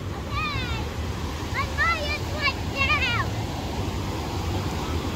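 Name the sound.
ocean waves at the beach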